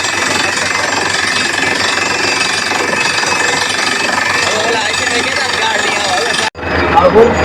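A farm cutter machine in Pipla village, Bhavnagar, runs with a loud, steady rattling drone for about six seconds before cutting out abruptly, leaving a brief burst of other noise.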